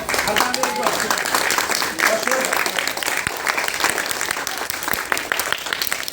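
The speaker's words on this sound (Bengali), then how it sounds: "হাততালি দিলে শরীরের জন্য ভালো।" Students and parents gathered at a karate club's 35th-anniversary games clap together in a dense, steady burst of applause that holds for several seconds, with voices mixed into the crowd noise.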